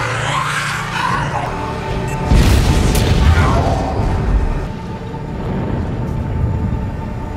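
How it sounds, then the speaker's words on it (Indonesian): A deep booming blast of an airplane exploding in a film erupts with a rumbling burst, followed by a lingering low roar and debris-like clatter. "segera pesawat pun meledak, membuat Alan dan pasukannya terkejut"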